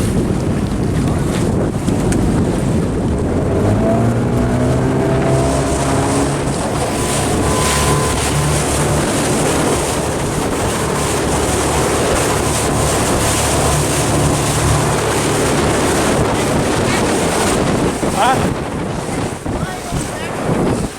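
A Sun Tracker Party Hut pontoon boat speeds up across open water, its steady engine drone and hull wash loud and continuous, with heavy wind buffeting throughout and a faint voice briefly audible.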